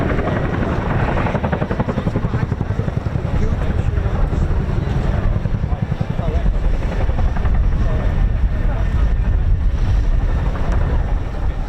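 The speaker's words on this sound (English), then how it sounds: "the CHINOOK flying for you today" A Chinook twin-rotor helicopter flies a display at the RAF Cosford air show, its loud, steady rotor thump and engine roar filling the air continuously alongside wind buffeting on the microphone.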